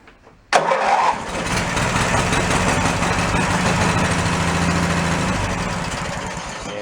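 A junked Snapper lawn mower engine, recovered from a town dump and suffering a fuel problem, catches with a sudden start and then runs steadily and loudly with an uneven, rough idle for several seconds, with no talking.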